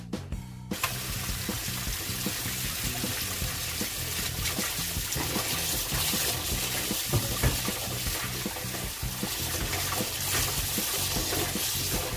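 Cold tap water runs steadily over freshly boiled eggs in a kitchen pot, a continuous close splashing rush with a faint clatter of eggs shifting, no talking.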